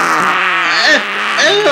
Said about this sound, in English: Ew, are you farting?